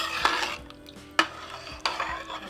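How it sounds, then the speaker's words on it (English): A spoon stirs milk into a pot of creamy wild rice and mushroom soup, making a few sharp scrapes and clinks against the pot between softer swishing movements, close and clear with no speech. "I just wanted to stir that in"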